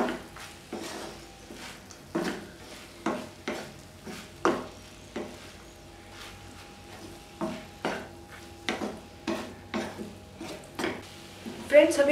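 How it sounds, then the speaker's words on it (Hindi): Boiled rice being mixed in a pan for tamarind rice, a utensil scraping and tapping the pan in about a dozen regular strokes, close and moderately loud, with a faint background hum. "अब मैं इसे अच्छे से मिक्स कर लूंगी।"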